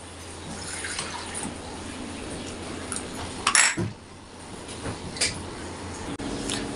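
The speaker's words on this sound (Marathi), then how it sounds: "वाटी मुगाची डाळ आणि पालक अशी स्वच्छ धुवून घ्यायचे आहेत" Moong dal and spinach being washed in water in a vessel, with soft sloshing and trickling, a few sharp clinks of metal against the pot, and scattered splashes.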